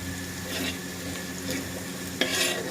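Garlic and ginger fry gently in a pan for paneer curry, a soft low sizzle with light stirring scrapes and one brief clink near the end.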